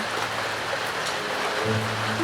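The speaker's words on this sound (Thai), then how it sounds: "ถ้าไม่ฝนตกจะเวิร์กกว่านี้" Rain falls steadily at a water-surrounded pagoda site in Rayong, Thailand, a constant hiss of drops on surfaces with a faint low hum entering near the end.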